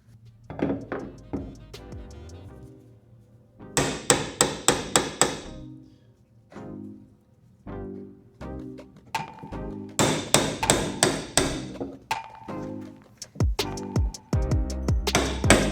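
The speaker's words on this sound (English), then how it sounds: "spin it as far as I can by hand and then finish it off with the hammer" Bursts of sharp hammer blows on a plastic fuel pump ring of a Jeep TJ, clusters of quick metallic-plastic strikes separated by pauses, close and loud, with some softer taps between.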